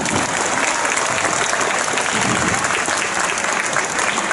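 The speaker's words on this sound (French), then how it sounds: "Des applaudissements pour lui." A crowd applauds a fencer from Anjou at a knights-versus-barbarians event in Angers, steady dense clapping that holds loud and even throughout.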